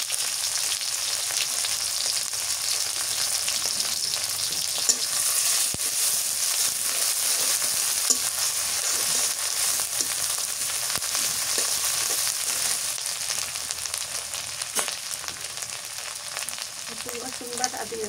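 Dried green chilies and spices fry in hot oil for a fish curry with jackfruit seeds and drumstick leaves. A steady, close, bright sizzling hiss runs continuously with faint pops and occasional stirring.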